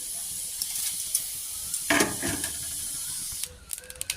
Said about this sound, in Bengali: চালটাও দিয়ে দিলাম, চালটাও ভাজতে হবে।